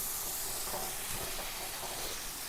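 Small potatoes frying in a pan for a potato curry, a steady broadband hiss of sizzling oil running evenly throughout, close and moderately loud, with no talking.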